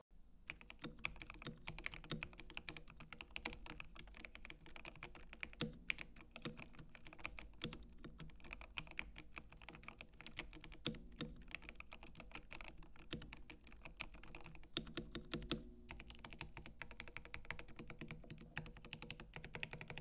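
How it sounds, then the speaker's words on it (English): Steady, fast typing on an Epomaker TH80 mechanical keyboard with Gateron Pro Yellow switches, a dense stream of soft, close keystroke clacks that continues without pause and without any talking. "enjoy the sound of the Epomaker TH80 with Gateron"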